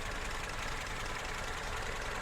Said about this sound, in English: Let's hear the engine.